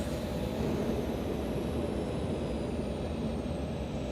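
A steady, broad engine drone inside an airplane cabin in a movie scene as the engines are throttled back, constant roar with no talk.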